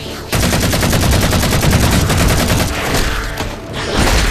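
Sustained automatic assault rifle fire in Halo 4, loud and close, a rapid continuous stream of shots that runs almost the whole time with a brief dip near the end and no talk.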